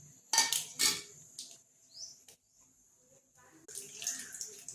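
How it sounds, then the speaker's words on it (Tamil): Urad dal and mustard seeds tipped into a pan of hot oil, a couple of sharp clattering drops followed by quieter pauses, then a rising crackling sizzle as the seeds fry near and clear. "உளுந்து, கடுகு போட்டுக்குவோம்."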